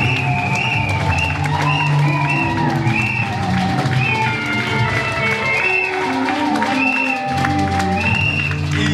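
A church congregation applauds and cheers loudly and continuously as a pastor arrives, with dense clapping and shouts mixed over music, filling the room with no pauses.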